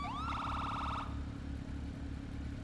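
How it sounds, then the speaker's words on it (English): An emergency vehicle siren in a video game gives a brief rising whoop and then a rapid warbling yelp before cutting off, over a steady low engine drone. "Alright, chill with the sirens."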